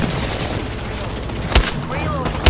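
Gunfire rattles in an Apex Legends arena match, a dense stream of shots punctuated by two sharp, heavy impacts near the middle and end.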